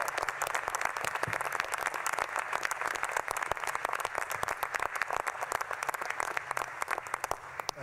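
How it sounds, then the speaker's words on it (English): Audience applause at a National Space Council meeting, a steady dense patter of many hands clapping throughout, fairly distant and even, with no voices over it. "Let's give them all a round of applause."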